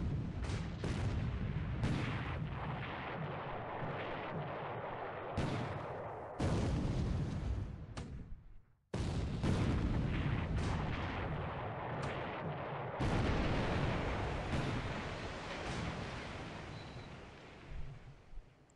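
Naval artillery shellfire in a WWII naval strategy game set in December 1941 with Japanese and Allied fleets: dense, overlapping booms and rumbling blasts that run continuously with a few abrupt cuts, and no voices.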